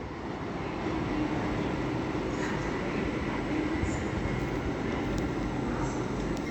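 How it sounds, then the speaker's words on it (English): A Grand Central Adelante passenger train running through Doncaster station on the East Coast Main Line, a loud, steady rumble of wheels and engine lasting throughout, with no voices. "Now coming down is a Grand Central Adelante from Sunderland to London King's Cross"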